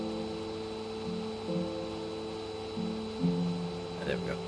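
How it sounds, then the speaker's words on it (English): Steady droning hum of a vacuum cleaner in the building game MakeRoom, running continuously at moderate level with shifting tonal pitch, a person's voice briefly over it near the end. "now let's grab the vacuum and make the floors clean"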